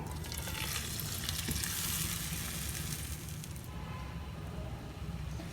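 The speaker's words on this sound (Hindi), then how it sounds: "अब हमने अंडे का जो बैटर बनाया है वो डालेंगे।" Egg batter poured into a lightly oiled pan for a double-decker egg paratha sizzles loudly and steadily up close, a dense continuous frying hiss that eases slightly toward the end.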